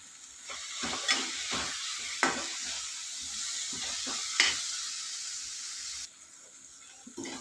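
Coriander and curry leaves fry in a pan for gongura chutney with dried red chillies, giving a steady close sizzle and hiss. Sharp clicks of stirring and spatula taps cut through it.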